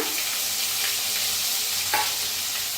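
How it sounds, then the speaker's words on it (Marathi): Mustard seeds, cumin, asafoetida, green chili and garlic crackle and sizzle in hot oil, a constant close hiss with a faint stir or spoon scrape near the end and no voices. "आता तेल चांगलं तापलंय त्याच्यात टाकूया अर्धा चमचा मोहरी अर्धा चमचा जिरं थोडस टाकूया हिंग हिरवी मिरची आणि लसूण"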